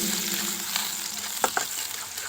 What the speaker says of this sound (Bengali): দেখুন, পেস্টটা ভেজে নিচ্ছে আগে হালকাভাবে।